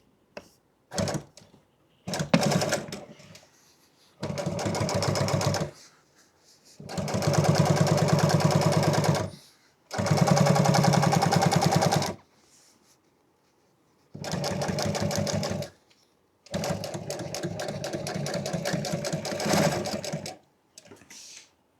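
A sewing machine stitches truck seat upholstery in about half a dozen loud, rapid bursts of rattling stitching of varying length, with quiet gaps between runs.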